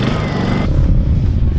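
Vehicle engine switched on at a race track: a loud, broad rumble that shifts to a deeper, steadier running drone partway through, with no talking.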